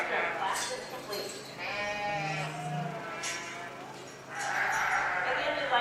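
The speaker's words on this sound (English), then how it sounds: "Mick Lindstrom has an Early Spring Ewe and other breeding sheep" Sheep bleat at a 4-H goat and sheep show where breeding sheep such as an early spring ewe are exhibited, with several wavering bleats mixed under people talking in a busy show barn.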